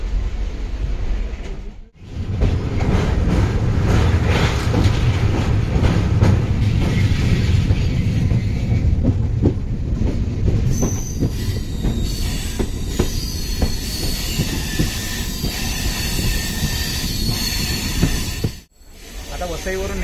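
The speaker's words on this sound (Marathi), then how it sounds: "आता वसईवरून निघाली आमची ट्रेन।" A passenger train pulling out of Vasai near Mumbai rolls along with a steady rumble and clatter of wagons, with squealing wheels and hissing. Two brief dips interrupt the noise, which stays loud and close throughout.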